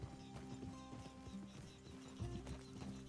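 Steady clip-clop of horse hooves in Red Dead Redemption II, a close, continuous trotting rhythm with a brief whinny, alone without voices.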